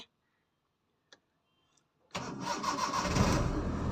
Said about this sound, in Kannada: ಫುಲ್ ಪ್ರೆಸ್ ಮಾಡಿದ ನಂತರ ಕಾರನ್ನು ಸ್ಟಾರ್ಟ್ ಮಾಡಿ ನಿಧಾನವಾಗಿ ಸ್ಟಾರ್ಟ್ ಮಾಡಿ